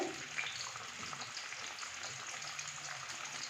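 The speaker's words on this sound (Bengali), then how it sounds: "ঝোলটা ফুটে উঠেছে" Fish curry gravy of spiced water for pabda fish bubbling in a pan, a steady close simmering hiss and faint bubbling that holds at an even level throughout.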